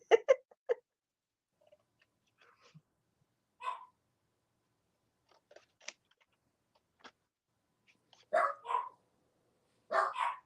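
Two dogs bark back and forth indoors in scattered, sharp bursts, some single and some doubled, with long quiet gaps between them at moderate distance.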